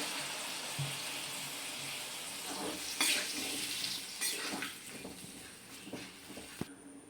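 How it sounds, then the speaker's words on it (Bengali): Water poured into a pan of jackfruit curry (echor kalia), a soft steady splashing and gurgling that swells in a few bursts, fairly quiet with faint clinks near the end. "এবার আমি এর মধ্যে পরিমাণ মতো জল দিয়ে দিচ্ছি।"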